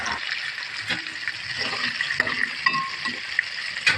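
Chicken leg pieces fry in a pan with a steady hiss and crackle, soft clinks and stirring scrapes breaking in now and then, close and fairly even throughout.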